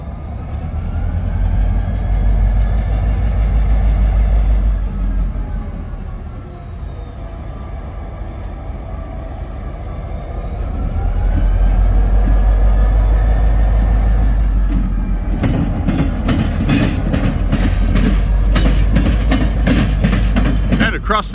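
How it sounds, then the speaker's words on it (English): Decatur and Eastern Illinois short-line locomotive moving through Decatur, Illinois, a deep engine rumble swelling as it gets under way, then rail clatter and squealing wheels, with someone talking over it. "the Decatur and Eastern Illinois locomotive, he finally gets his chance to move"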